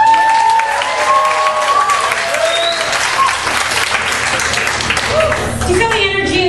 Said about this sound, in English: if you don't have kids, I want to hear you by a round of applause.